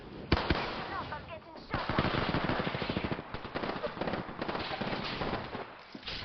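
Video game gunfire rattles in dense, rapid automatic bursts with sharp individual shots, loud and nearly continuous, while voices call out in the mix.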